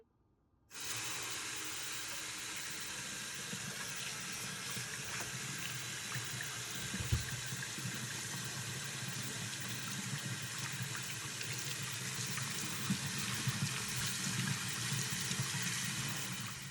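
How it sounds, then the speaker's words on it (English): A kitchen tap runs steadily as beets are washed, a continuous close hiss of flowing water with a brief splash partway through and no talking. "So let's wash the beets"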